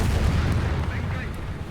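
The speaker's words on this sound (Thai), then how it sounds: "ผมไม่แน่ใจนะว่าเสียงระเบิดเมื่อกี้มันจะ ดังไปหรือเปล่า" A loud, rumbling explosion in the game War Thunder, with an M41A1 tank, roars briefly and decays, dense and booming like game-style blasts and gunfire.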